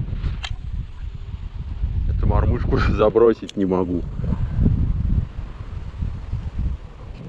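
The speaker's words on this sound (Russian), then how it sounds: "Ну, тут ветер" Wind blowing outdoors at a fishing spot, a constant low buffeting rumble against the microphone, while someone talks briefly over it.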